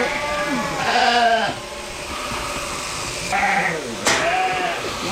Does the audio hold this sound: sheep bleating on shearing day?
yes